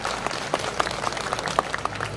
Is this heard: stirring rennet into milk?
no